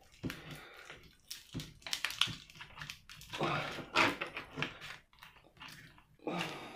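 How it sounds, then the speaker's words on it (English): Scissors snip and crunch through a LiFePO4 battery pouch cell in a series of close, irregular cuts, short crackling bursts separated by brief pauses. "Scissors aren't ideal for this,"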